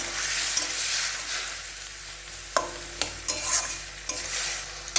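Boiled bottle gourd greens stir-fry in a hot pan with a steady hiss, broken by several sharp scrapes and clinks of the spatula in the second half.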